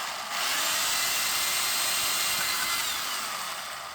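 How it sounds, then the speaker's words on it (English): A power drill bores through a metal part in one continuous high, whining grind lasting a few seconds, loud and close, with no speech. "You see how the drill bit got pulled down in?"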